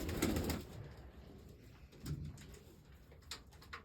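Pigeons in a coop, being moved into a new one, give soft, low coos in a few separate bursts, near but quiet, over faint background rustle.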